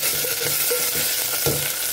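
Curry leaves, turmeric, garlic and dried chillies sizzle steadily in hot oil for a lentil tempering, with faint stirring scrapes cutting through the continuous crackle and no one speaking.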